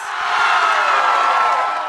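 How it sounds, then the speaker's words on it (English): Studio crowd breaks into a loud, sustained burst of applause and cheering, steady and dense from start to finish with a few whoops mixed in. "Cue applause."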